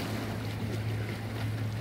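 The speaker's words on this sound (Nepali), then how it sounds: "कस्तो पानी गरेको है छल्केको यी।" Water sloshes and splashes from boating on the lake at Bulbule in Surkhet, a continuous washing texture over a constant low engine hum and wind rush, fairly close and steady.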